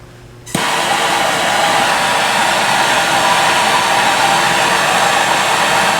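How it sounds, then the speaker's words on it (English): A steady, loud roaring hiss starts abruptly after a brief quiet moment and holds constant, like a gas torch burning at full flame. "So let's fire up the torch."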